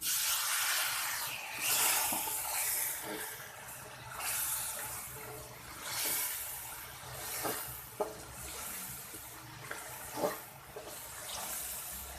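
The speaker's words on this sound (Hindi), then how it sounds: "थोड़ा सा पानी डाल देंगे।" Water is poured into a pan of chicken korma with salt, chili, turmeric and spices, giving a soft, faint splashing and trickling pour, with a few light clinks near the end.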